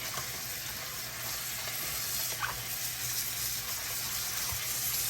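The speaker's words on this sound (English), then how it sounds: "I'll pour that water off." Rinse water is poured off freshly cut potatoes in a kitchen, making a steady close splashing, gushing stream with a few small knocks, continuous throughout with no voices.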